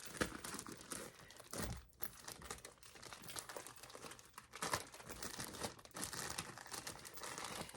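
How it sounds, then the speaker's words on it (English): A plastic shipping bag crinkles and rustles continuously while an order is being packed, quiet and close, with irregular bursts of crumpling. "I'll just double bag it and then tape it."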